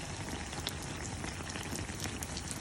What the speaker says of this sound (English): Now it's starting to caramelize everywhere.